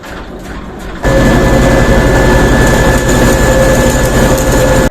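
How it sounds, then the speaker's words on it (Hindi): Engine of a maize flour grinding mill starting up: quiet rumble for a second, then a loud, steady low-pitched engine roar with a droning hum that runs on continuously, close by, no talking. "तो अब इंजन को स्टार्ट करते हैं।"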